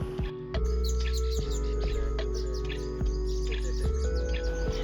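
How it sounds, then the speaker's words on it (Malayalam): Baya weaver birds chirp around their woven nests in Karnataka, a busy scatter of thin, high calls over a steady low hum that runs throughout. "ഈ പക്ഷികൾ ഒരു കുരുവി വർഗത്തിൽ പെട്ടതാണ് കേട്ടോ. ചൂളൻ കുരുവി അല്ലെങ്കിൽ ആലക്കുരുവി എന്നൊക്കെയാണ് പറയുക."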